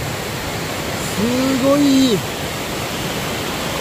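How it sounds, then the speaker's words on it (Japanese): A river running like a waterfall beside a railway track, a steady broadband rush filling the whole clip while a voice speaks briefly over it in the middle. "川のせせらぎが"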